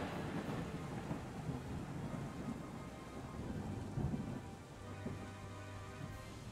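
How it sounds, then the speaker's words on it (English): Thunder with steady heavy rain during a tabletop fantasy game scene, a continuous dense storm wash with a low rumble swelling near the four-second mark, no talk over it. "an ominous crackle of thunder."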